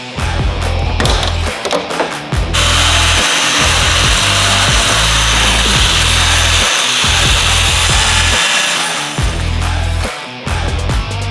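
Loud power tool, likely an impact driver or drill, running almost nonstop while removing bumper screws on a Subaru WRX widebody build, with brief pauses near the start and end.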